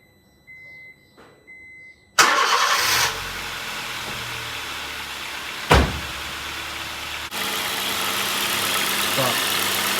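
A Honda Jazz 1.4 iDSI engine, running after a new pulley and auxiliary drive belt were fitted, starts with a sharp jump in volume and then runs at a steady idle. The radiator fan kicks in later and adds a broader, louder whoosh over the engine.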